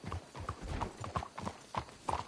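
Rapid clip-clop of horse hooves trotting at a steady rhythm in the video game Red Dead Redemption 2, fairly close, with no voices over it.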